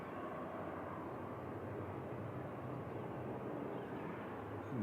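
An Aer Lingus airliner at Manchester Airport gives off a steady, fairly distant engine roar that holds evenly throughout with no break.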